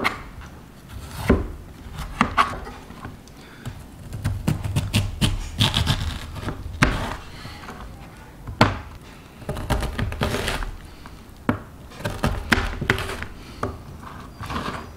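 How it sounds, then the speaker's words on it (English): A knife shaves the tough outer skin off a chayote root, producing irregular scraping cuts and dull thunks against a cutting board, close and moderately loud, with short pauses between strokes. "I'm just gonna kind of like cut off the outer bits of it with a knife"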